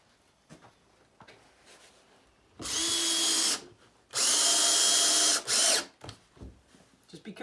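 Power drill driving short screws into a wall-mounted stackable rack: two loud bursts of whirring, the second longer and broken by a brief pause, with quiet handling noises between them.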